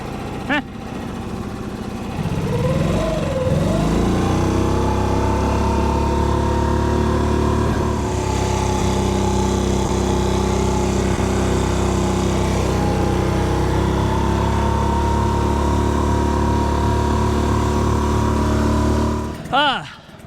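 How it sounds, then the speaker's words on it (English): A 6-horsepower two-stroke Hangkai outboard motor on a boat sputters up after a couple of seconds, then holds a loud, steady buzzing drone with slight pitch shifts before cutting off near the end. "we went ahead and threw the 6-horsepower 2-stroke Hangkai on here"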